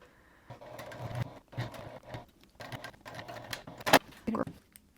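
A Juki sewing machine running bursts of top stitching on a hip bag, with short whirring runs that start and stop, separated by pauses and a few sharp clicks near the end.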